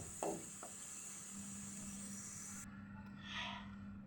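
Chopped garlic fries in a pan with a soft, steady sizzle. A few light stirring scrapes sound close by, and there is no speech.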